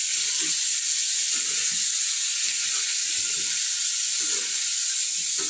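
Pumpkin curry (kaddu sabzi) cooks in a pan, giving a steady broadband sizzle with soft intermittent scraping and stirring taps, close and continuous with no voices.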